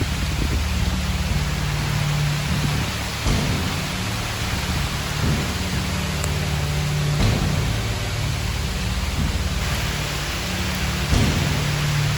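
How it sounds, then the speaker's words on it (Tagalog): Heavy rain pours down in a dense, continuous roar, with occasional louder bursts and a low rumble underneath. "lakas ng ulan ulit"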